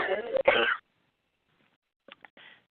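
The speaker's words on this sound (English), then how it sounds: "Sounds like someone's got a cough on the line." A short, harsh cough-like burst comes up close, then silence, then a few faint clipped sounds follow.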